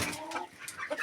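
Chickens cluck in short, close bursts at an evening feeding in a farmyard, a brief busy cluster of calls with no talking.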